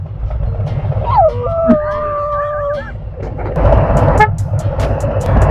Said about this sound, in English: Oh good, you found the horn button.